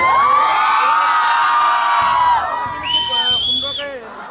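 Students at Pragya Academy celebrate exam results with loud shouting and cheering, a whistle and high whoops rising over crowd noise, the voices close and lively before the cheers fade.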